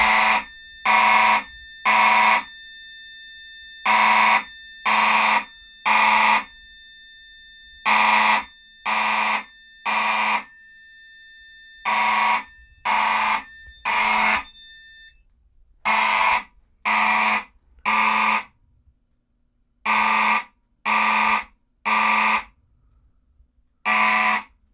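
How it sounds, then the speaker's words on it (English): A Gentex mechanical fire alarm horn blares in a temporal pattern during a system test, with loud groups of three harsh honks separated by short pauses, repeated alone and close. "I have used a mechanical horn today. The particular horn in question is the Gentex"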